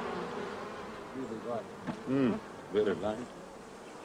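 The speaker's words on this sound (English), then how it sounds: "African bees are very lovely to work with." African bees hum and buzz softly in the background near a beekeeper in Zimbabwe, a faint insect drone heard under a man's short spoken remark.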